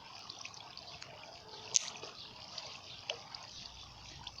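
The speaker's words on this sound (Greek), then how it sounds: "Αλλά μου παρασύρει το νερό." Flowing water in the video game Minecraft, a steady soft rushing wash running throughout with a few faint clicks and one brief sharp tick partway through.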